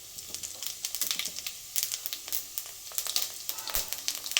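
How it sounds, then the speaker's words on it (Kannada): Mustard seeds spluttering in hot oil for a tomato curry, a rapid irregular crackle of sharp pops, close and fairly loud with no voices. "ಇವಾಗ ಎಣ್ಣೆ ಕಾಯ್ದಿದೆ, ಸಾಸಿವೆ ಹಾಕ್ಕೊಳ್ಳಿ. ಚಿಟಪಟ ಅಂತ ಸಿಡಿಸ್ಕೊಳ್ಳಿ."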